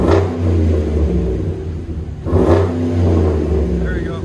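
Chevy Silverado 2500HD with a 6.6L gas V8 and Black Widow Race Venom dual exhaust revving hard twice, a deep, loud rumble swelling and fading close by, with voices talking over it.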